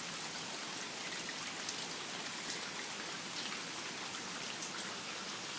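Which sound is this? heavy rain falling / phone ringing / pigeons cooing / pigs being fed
heavy rain falling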